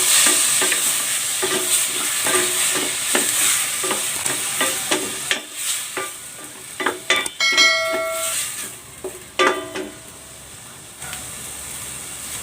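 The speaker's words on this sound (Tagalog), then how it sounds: "Igigisa ko na rin tong kamatis." Tomatoes sautéing with onion in a pan give a steady sizzle and hiss close by, broken by repeated scrapes and clinks of stirring with a utensil.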